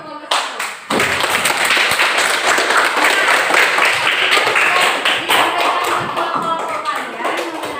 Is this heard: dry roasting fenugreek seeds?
no